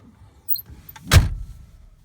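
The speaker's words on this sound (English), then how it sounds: "Let me shut the door as well." A single solid slam as the door of a 2003 Ford Explorer Sport Trac XLS pickup is pulled shut from inside, preceded by faint clicks, close and loud, then quiet cabin.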